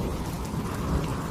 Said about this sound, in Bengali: বাহিরে ঝিরঝিরি বৃষ্টিও পড়ছে